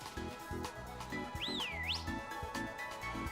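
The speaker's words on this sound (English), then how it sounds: "I've just discovered you can whistle" A player character whistles in the video game Pokémon Scarlet, a single rising-falling-rising tune lasting about half a second, heard over a rhythmic, looping game music track.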